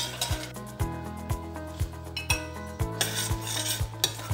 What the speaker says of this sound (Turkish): Sosumuzu sık sık karıştıralım ki şeker dibine tutmasın.